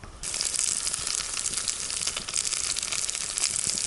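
Steady, bright hiss and crackle of pearl barley porridge from a Ukrainian army ration sizzling in a pan as it heats, constant and fairly close, with no voices.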